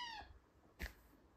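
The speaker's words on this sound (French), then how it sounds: "Voilà les petits chatons." Kitten giving a short, high falling meow close by, then a soft thump and quiet room tone, with no talk.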